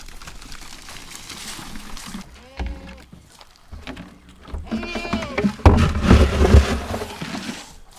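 Goats on a farm bleat at feeding time, with a few calls cutting through rustling and handling noise; the bleating grows louder and busier toward the end.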